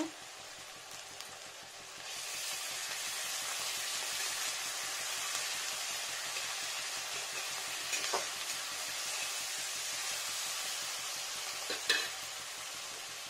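Ginger paste hits hot oil in a pan while fish roe jhol is being cooked, and a steady bright sizzle rises after a quieter start and keeps going, broken by a few light stirring clicks.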